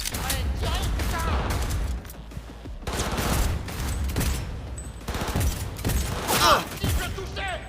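Rapid gunfire in a firefight in Cyberpunk 2077, loud continuous bursts of shots and blasts layered thickly throughout, with shouted voices mixed in.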